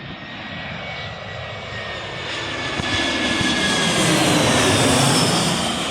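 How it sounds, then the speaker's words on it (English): An Airbus A320 or A321 jet airliner passes near Birmingham Airport, its broad engine roar growing steadily louder and fuller over several seconds with no talking. "I think it's an Airbus A320"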